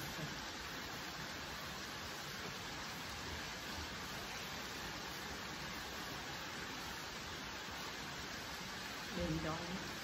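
Steady rain with wind falls outdoors as a dense, even hiss, moderately faint and unbroken throughout, with a short low thump near the end.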